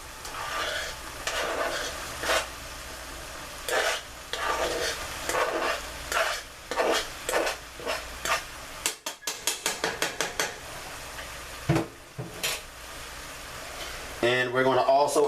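Onions and minced garlic hit a pan of browned Italian sausage for baked ziti. A steady sizzle runs under close spatula scrapes and clatter, with bursts of rapid tapping and talk over part of it.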